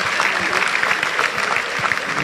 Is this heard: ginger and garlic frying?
no